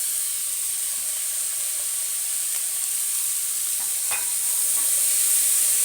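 Bitter gourd pieces frying in a pan, giving a steady sizzling hiss while a utensil scrapes and stirs now and then, with a couple of sharper clinks near the end; no voices.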